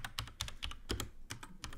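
Computer keyboard typing in quick irregular bursts of keystrokes, close and fairly loud, with short pauses between clusters of keys and no voices.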